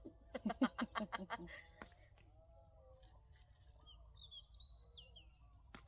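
A bird gives a rapid series of low, hooting calls, then softer chirps and whistles follow in the background, fairly faint and outdoors.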